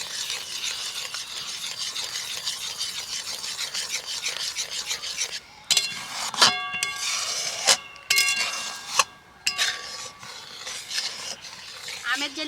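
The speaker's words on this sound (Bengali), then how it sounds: "দুধটাকে অনবরত এইভাবে নাড়তে হবে" A utensil repeatedly scrapes and rasps against the bottom of a pot as milk is stirred constantly while it boils down to thicken for a ripe-mango dessert. The strokes are close and rhythmic, with sharper, more distinct scrapes in the second half.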